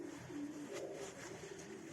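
Racing pigeons coo in a loft, a steady layered murmur of low, throaty calls repeating throughout at close range.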